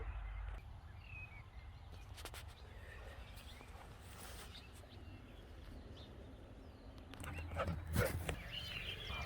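Several dogs barking and whimpering at a man walking his own dog past the front of the property, a steady outdoor bed with sharp barks around the midpoint and a louder burst near the end, birds faintly in the background.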